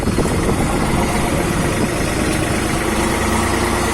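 A New Holland TT4 tractor engine runs steadily after the throttle is pressed, a loud close diesel drone with constant vibration and no talking.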